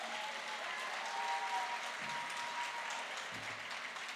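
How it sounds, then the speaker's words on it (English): A banquet-hall audience at a gala dinner claps continuously and evenly throughout, a full round of applause at moderate loudness with no speech rising above it. "Our great speaker, Carl Heastie, let's give him a round of applause."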